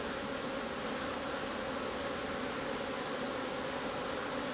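Honeybees from an opened hive during a summer inspection, agitated and buzzing in a steady, dense drone that stays close and even throughout without any talk.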